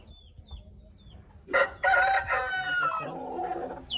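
An Aseel rooster crows once, loud and near, followed by lower clucking, with faint bird chirps before.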